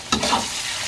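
Seasoned fish meat frying in a pan is stirred, giving a brief scrape and a steady close sizzle that carries on alone after the stir.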